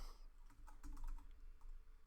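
Light, quick typing on a computer keyboard in a music-production setup, a soft, fairly steady patter of clicks heard faintly and close with a low background hum.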